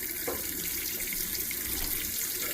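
Cold water running steadily from a kitchen tap to rinse oxtails, a constant close splashing hiss with no talk.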